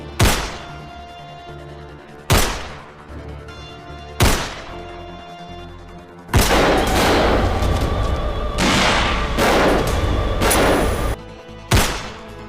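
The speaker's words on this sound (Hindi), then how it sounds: "जेके जो है वो गुस्से में जो पे गोली चला था" Heavy gunshots ring out during a fight, first three single loud booms spaced a couple of seconds apart, then a dense burst of rapid firing and one final shot.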